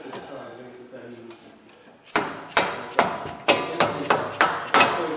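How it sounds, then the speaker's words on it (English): Quiet background noise, then a dead blow hammer strikes about eight times in a steady rhythm, each a loud, dull thud close by, during front brake maintenance on a 2015–2022 Ford Edge. "Nice dead blow hammer will get you everywhere."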